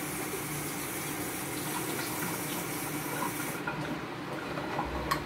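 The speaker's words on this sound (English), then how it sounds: "let me rinse this spoon off" Tap water runs steadily over a spoon being rinsed in a sink, a close, even rush of flowing water that grows slightly softer and duller partway through.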